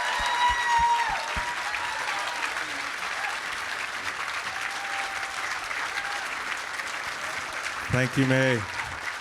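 Audience applause for Maye Musk at a 2023 Tesla Takeover event fills the room as steady clapping throughout, with a host's voice speaking over it and a brief louder burst near the end.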